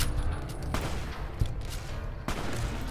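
Rapid gunfire in Fallout New Vegas, several sharp shots striking the player, loud and close, with sudden bursts at intervals over a rumbling, noisy background.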